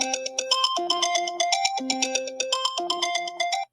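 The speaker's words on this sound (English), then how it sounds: "Let me change his ringtone or whatever." A phone ringtone plays alone as a bright, repeating electronic melody, its looping tones cycling several times at steady volume before cutting off sharply.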